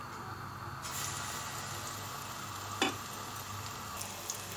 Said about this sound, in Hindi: अब हम इसमें पकोड़े डालना शुरू करते हैं।